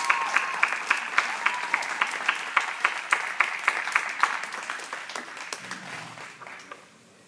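Sustained applause at a youth P.O.A. graduation in Illinois, steady claps from a sizable crowd filling the space, gradually fading out at the end.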